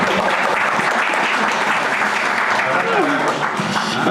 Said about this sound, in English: And you'll have to clap.